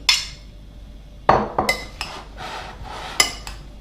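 Chopped apples and Williams pears are tossed together in a salad bowl, giving a scatter of sharp clinks and knocks from a utensil against the bowl, close and fairly loud.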